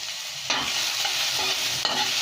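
Onion and tomato hitting a pan with slightly burnt garlic for a provincial laswa dish, a loud burst of sizzle that holds steady with a couple of scraping stirs.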